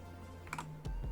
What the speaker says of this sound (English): So I'm going to press Control S right now.